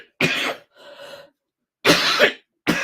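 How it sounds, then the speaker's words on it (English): A person in a coughing fit, coughing in three harsh bursts with a softer wheezing breath between them, close and loud with no talk. "I'm so glad you guys are here while I'm having this coughing fit."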